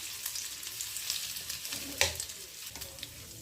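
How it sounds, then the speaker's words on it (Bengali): Dried red chillies and cumin seeds fry in hot mustard oil, giving a steady low sizzle with light crackles and one sharper pop partway through. "ফাটানো শুকনো লঙ্কা, জিরে ফোড়ন দিচ্ছি এতখানি"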